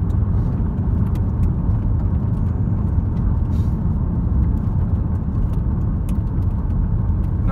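A 2014 Ford Falcon Trend driving up a hill on the road, heard from inside as a steady low engine and road rumble with no talking.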